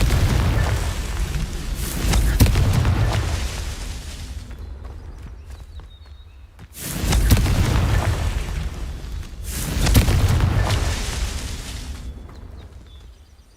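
Fire spell explosions in Hogwarts Legacy go off in three loud, booming blasts, each followed by a long rumbling decay that fades before the next burst.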